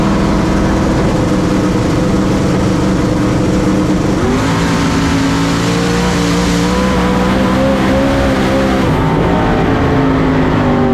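A drag race car makes a Drag Week run, its engine roaring loud and unbroken for eleven seconds with shifting pitch as it speeds down the strip, close and without voices.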